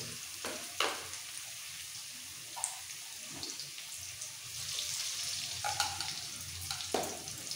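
Potato pieces frying in oil for a katla fish and cauliflower curry, a continuous gentle sizzle broken by a few stirring scrapes and knocks in the pan, with no one talking.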